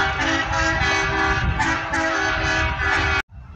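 A railway track maintenance vehicle rolls past close by, sounding a sustained, loud multi-tone horn over rumbling wheels before cutting off abruptly into near silence.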